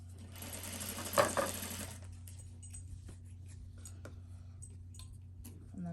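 A sewing machine back stitching a seam on fabric for a small medical device pouch: a steady mechanical whir and rapid needle ticking with a brief louder burst early on, then quieter, even running.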